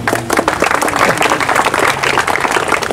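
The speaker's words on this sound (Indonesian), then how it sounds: "Tepuk tangan dulu untuk beliau, luar biasa." An outdoor crowd at an athletics selection event applauds a sports official, loud and sustained clapping close by, with a few voices mixed in.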